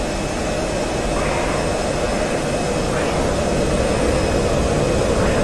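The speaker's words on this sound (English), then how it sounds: "Massive angle of attack noise." An F-16C Viper in the DCS flight simulator pulling a high angle of attack gives a loud, steady roar with broad rumbling airflow noise and a few faint swelling whooshes, with no voices.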